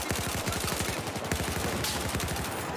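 Rapid automatic gunfire in the video game Battlefield 4 rattles continuously in a fast, even stream of shots, loud and close, with no talking over it.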